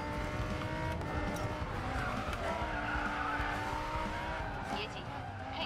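Tires skid and squeal as a car drifts through a corner on the handbrake in a racing video game, the engine roaring steadily underneath, while a voice talks over the continuous sound.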